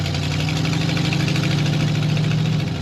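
A 1932 Ford Delivery street rod's engine idles steadily with the windows up, a loud, even low rumble with a constant pulsing throb and no talk over it.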